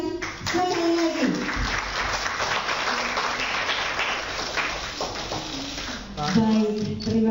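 Sustained, dense audience applause fills a formal public gathering attended by officials, steady and loud throughout, with voices briefly heard over it at the start and end.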